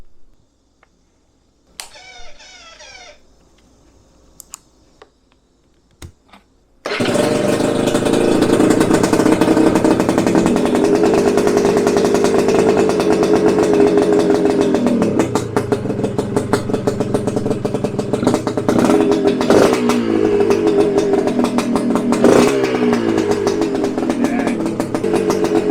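A GPX Moto TSE250 two-stroke motorcycle cranks with a few clicks before firing up loudly and close. It settles into a raspy, crackling idle with repeated throttle blips and revs, and the engine carries on for the rest of the clip.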